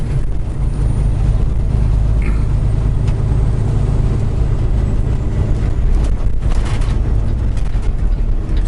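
A truck's Jake brake works as engine braking on the highway, a loud, steady low rumble and roar that holds throughout with no voices over it.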